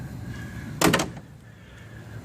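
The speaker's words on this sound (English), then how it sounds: "These doors really close nicely." A single solid thump as a door on a 1934 Ford three-window coupe swings shut, brief and close, with a short rattle after it in an otherwise quiet setting.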